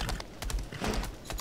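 Horse hooves clopping in a steady rhythm while riding in the video game Lost Ark, close and moderately loud, in a short burst with no voice over it.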